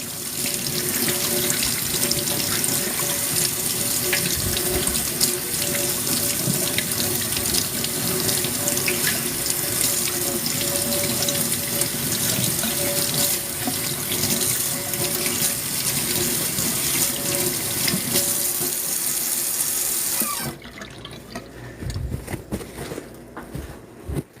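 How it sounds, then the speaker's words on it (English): Water pours steadily from a tap into a sink during handwashing, a loud continuous close-up rush that cuts off near the end, leaving a few faint drips and handling sounds. "I gotta wash my hands"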